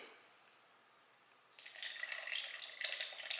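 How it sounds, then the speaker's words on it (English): Curdled sour milk poured into cookie dough made with lard for an 1800s cookie recipe, a wet splashing, trickling pour that starts abruptly after a quiet pause and runs steadily to the end, close and clear. "So I'm gonna go ahead and pour this in."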